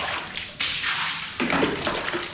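Water splashes and sloshes in short bursts as something is washed with plain water, close and fairly loud, in three quick surges.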